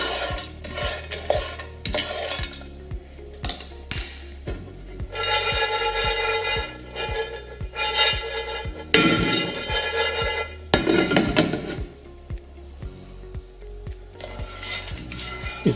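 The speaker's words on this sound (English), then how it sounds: "the key here to roasting coffee in a pan is to keep it stirred up" Coffee beans being roasted in a pan are stirred continuously, a dry scraping and rattling with faint sizzle, the spoon or spatula striking the pan in uneven strokes throughout, close and fairly loud.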